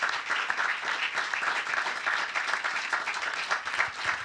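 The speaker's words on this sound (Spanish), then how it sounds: "Ni me había dado cuenta que estaban aplaudiendo." An audience applauds at the close of a talk, with steady rippling hand clapping from a roomful of people lasting about four seconds, moderately quiet and slightly distant, and no voices over it.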